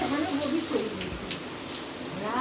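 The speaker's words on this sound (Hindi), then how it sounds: "गाइस, इतना तेज बारिश हो रहा है" Heavy rain pours down steadily, a dense continuous hiss of drops on surfaces that fills the whole moment without a break.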